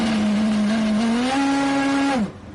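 A race car with a mechanical problem at Spa-Francorchamps during a WEC endurance round gives a steady, loud engine drone that wavers slightly and steps up once before dropping away abruptly near the end.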